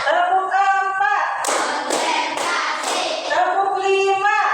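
Indonesian fifth-grade class doing a counted clapping routine: four sharp, evenly spaced group claps ring out close and loud, framed before and after by children chanting together.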